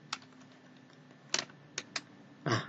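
A few scattered keystrokes on a computer keyboard while typing, sharp close clicks spaced irregularly, ending in a slightly heavier double press, with quiet room tone between them.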